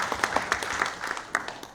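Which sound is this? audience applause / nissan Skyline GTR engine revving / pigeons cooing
audience applause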